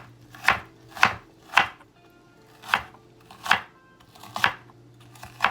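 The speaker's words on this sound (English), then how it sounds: "you're just gonna cut your onion. You're gonna chop it into small pieces" A knife chops onion into small pieces on a board, seven sharp, evenly spaced cuts at a steady rhythm, close and fairly loud with no talking.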